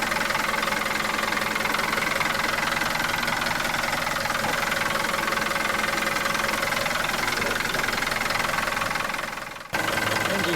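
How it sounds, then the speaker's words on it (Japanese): A Hino Dutro truck's 4-litre, 150 hp intercooled diesel engine idles with a steady, loud, close knocking drone that runs unbroken and then cuts off abruptly near the end. "エンジンは4リッター150馬力インターク型を付きです。"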